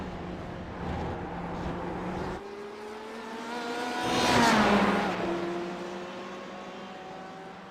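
A race car at a Le Mans endurance race, its engine note holding a high whine and climbing through gears as it swells closer, then fading, with tonal harmonics sweeping upward.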